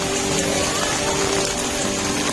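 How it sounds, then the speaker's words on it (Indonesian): Steady rain falls at a mountain base camp, a dense, even hiss of drops on surfaces. It is close and continuous, with no voices over it. "Hujan tak kunjung reda ketika saya mau memulai pendakian."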